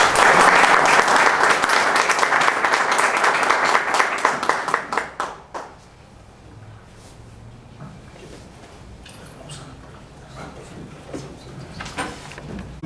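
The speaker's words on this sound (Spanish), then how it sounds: "Recibamos a nuestro invitado con un aplauso." Audience applause for a guest speaker at a medical school event honoring a physician's centenary, a loud dense burst of clapping for about five seconds that quickly fades to scattered claps and room murmur.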